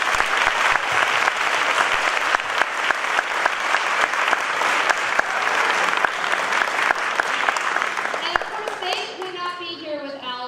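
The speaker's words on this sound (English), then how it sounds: "they deserve a round of applause for all of their hard work" An audience at an elementary school music performance applauds in a dense, sustained burst of clapping that carries on for several seconds before thinning out near the end.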